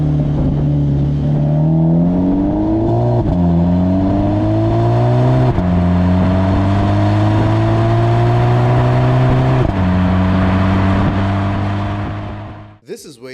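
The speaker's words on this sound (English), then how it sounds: "you just switch to sport and you can hear the engine singing." VW Polo GTI engine in sport mode accelerating hard through several gears, each pull rising in pitch and then dropping at the shift, loud and close from inside the car, fading out at the very end.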